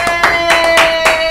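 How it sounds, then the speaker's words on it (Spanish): Brief clapping at a food challenge celebration, a few claps with short gaps, close and fairly loud. "¡Aplauso!"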